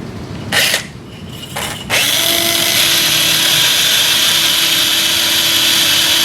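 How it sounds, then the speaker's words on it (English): A cannulated power drill runs a radial starter drill over a guide pin into a sawbones wrist model: two short whirring bursts, then a sustained high, steady drilling whine close by. "With the cannulated power drill, drive the radial starter drill over the guide pin"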